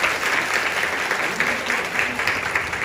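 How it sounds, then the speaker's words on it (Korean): An audience at a Korean hanbok model pageant claps steadily for the models, moderately close and continuous, with a faint voice underneath. "우리 모델분들 힘나게 박수도 많이 쳐주시고요"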